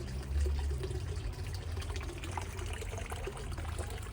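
Water flows steadily into a stone washing basin in an old laundry, a continuous low trickle and gurgle with no talking.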